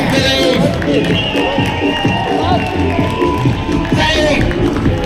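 A crowd at a street demonstration in Edinburgh cheers and shouts continuously, loud and close, with voices and whistling mixed into a dense, sustained roar.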